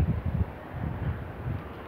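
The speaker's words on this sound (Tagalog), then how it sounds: "grabe kalakas ng hangin guys" Strong wind blowing outdoors outside a school during a storm, a dense, low roaring rush with gusty pulses that buffet the microphone steadily throughout.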